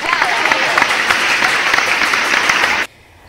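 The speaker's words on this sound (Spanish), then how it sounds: "Fuerte aplauso." An audience at a live interview event bursts into loud, dense applause that runs for nearly three seconds and then stops abruptly, leaving near silence.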